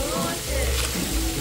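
Sausage frying in sesame oil in a pan gives a steady, close sizzle and crackle that runs through the whole short stretch, with no pauses.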